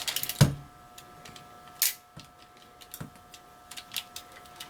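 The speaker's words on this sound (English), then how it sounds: "you can now click the legs into position" Plastic legs of a Takatoku VF-1 transforming toy clicking into position, a sharp close snap followed by several lighter scattered ticks and clicks, alone without talk.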